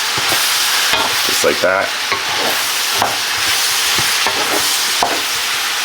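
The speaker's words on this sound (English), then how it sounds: "Give it a stir" Vegetables with a good amount of black pepper stirred in a skillet, spoon scraping in short irregular strokes over a steady close sizzle, with a brief voice partway through.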